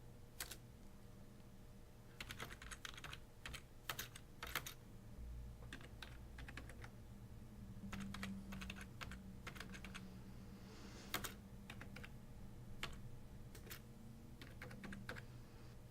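Keys on a computer keyboard tap in scattered quick clusters, quiet and close, with sporadic single presses over a faint steady hum.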